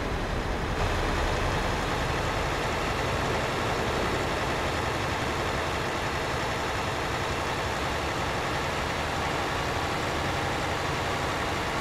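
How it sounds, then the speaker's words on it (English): A Volvo VNL 780 truck engine idles in Euro Truck Simulator 2 while hauling a heavy trailer load, giving a continuous low, even rumble at moderate level with no talking. "listen to the truck now."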